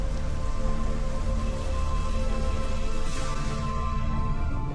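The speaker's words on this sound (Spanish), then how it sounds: "Cada año, tormentas torrenciales descargan hasta 200 centímetros de lluvia en la ladera de la montaña." Torrential rain pours steadily on a mountainside at Machu Picchu, a dense, loud, unbroken hiss of drops with no pauses and no voices.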